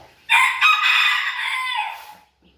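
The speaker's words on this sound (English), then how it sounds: "that's my rooster" A rooster crows once, loud and close, a long ringing call that trails off before silence.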